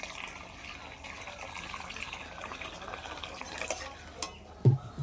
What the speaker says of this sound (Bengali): এবার আমি আর একটু বেশি করে জল দিয়ে দিচ্ছি